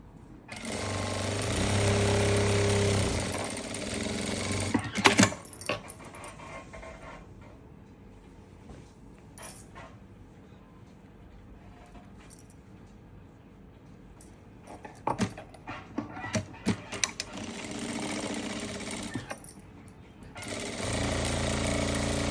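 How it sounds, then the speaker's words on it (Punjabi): A home sewing machine stitching a salwar, loud rapid mechanical clatter in two long runs at the start and end, with a choppier burst in the middle and quieter handling sounds between them. "ਮਸ਼ੀਨ ਤੇ ਦੇਖੋ ਨਾ ਆਪਾਂ ਇਹਨੂੰ ਸਟਿਚ ਕਰਨ ਲੱਗੇ ਆ"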